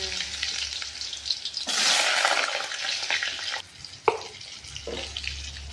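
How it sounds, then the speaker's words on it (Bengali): Potatoes frying in oil with cumin, dried red chili and bay leaf in a kadai, a steady loud sizzle that swells when stirred, with quieter scraping and clinks between. "এখন কি করছো? আলু ভাজছো?"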